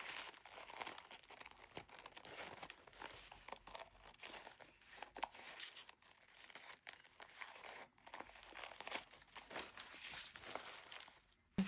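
Paper is cut roughly with scissors for a grid journal, a continuous close run of crinkling, snipping and rustling at low level with no talk.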